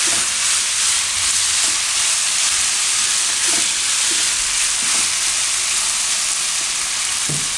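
Onion and potato curry cooking in oil in a pan, giving a loud, dense, continuous sizzle close up, with occasional soft stirring knocks and no talking.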